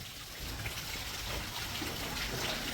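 Water runs steadily into a Sintex plastic tank in a cattle shed as it fills for a bull, a continuous close rushing trickle with no pauses.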